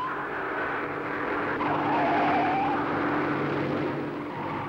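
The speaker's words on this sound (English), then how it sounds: "you can hear the rubber squeal" Racing car tyres squeal through left-hand bends at the 1965 Armstrong 500, a thin, sustained screech rising and fading over steady engine roar, heard close and fairly loud with no talking.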